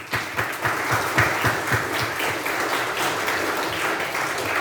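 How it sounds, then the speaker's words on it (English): Steady applause from a crowd, dense clapping held at an even level for several seconds with no voices standing out. "just give a round, good round of applause so they can hear it"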